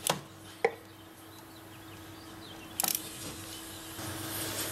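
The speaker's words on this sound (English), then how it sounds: "set up the torque wrench. We'll go ahead and torque it." A torque wrench tightens a spark plug on a Jaguar S-Type R, with a few quiet ratcheting clicks, a sharp snap near the start and a brief burst of clicks midway over a faint low hum.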